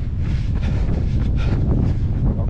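Strong wind buffeting the microphone, a constant low rumbling roar with gusty fluctuations.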